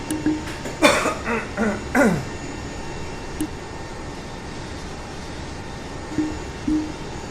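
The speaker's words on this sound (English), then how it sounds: "Coughing here, having a coughing fit." A short burst of several harsh coughs close by, followed by a few quieter throat-clearing coughs over a steady low engine-like hum from a Boeing 777-300ER flight simulation.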